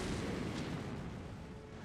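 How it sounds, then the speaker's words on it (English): Booming cannon fire during a bombardment in the video game Hakuoki, a dense, loud low rumble that fills the clip continuously and fades slightly toward the end. "the deafening thunder of the cannon shook the magistrate's office"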